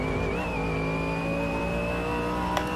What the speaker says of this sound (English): There's a weird whine. I guess that's trying to be the gearbox, maybe.